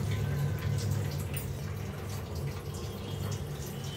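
Water boils in a pot on the stove for a low-oil steamed vegetable dish, giving a steady, soft bubbling and gurgling hiss at moderate level with no voices.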